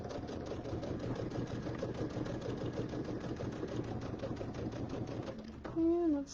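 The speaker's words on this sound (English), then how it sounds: "So I'm just sewing on the inside." A sewing machine stitches fabric from the inside of a seam in a fast, steady mechanical run that stops near the end, with a brief rising tone afterward.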